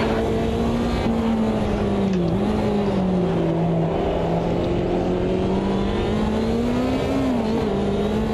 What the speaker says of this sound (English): Me actually racing a car, not doing lap times.